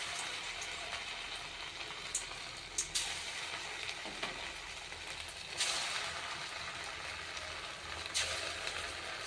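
Spoonfuls of batter dropped into hot oil fry with a dense, continuous sizzle and crackle, with bursts of louder hissing as new portions hit the oil, close and fairly quiet with no talking.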